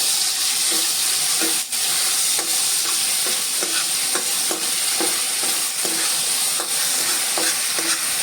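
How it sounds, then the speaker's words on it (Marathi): Chili paste and ginger-garlic paste fry in hot oil with a steady loud sizzle, while a spoon scrapes and stirs the pan in regular knocks roughly every second. "तेल तापलेलं आहे मिरचीचा खरडा आणि आलं लसणाची पेस्ट आपण घातलेली आहे"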